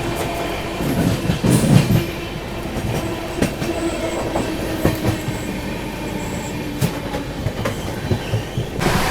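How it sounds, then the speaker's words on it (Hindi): From inside, an Indian Rajdhani Express rolls along with a steady rumble, rhythmic wheel clatter and occasional squeals, and faint horn tones sound from somewhere ahead. "आगे की साइड है तो बढ़िया हॉकिंग भी सुनाई दे रही है आपको।"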